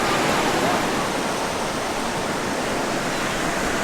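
Sea waves at Hua Hin beach in Thailand make a loud, steady wash of surf, with no talking heard.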